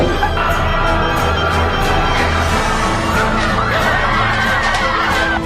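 A crowd of shoppers rushes into a Walmart store near Grand Rapids, Michigan at 5 in the morning, a dense, loud roar of shouting, whooping and screaming voices that carries on throughout.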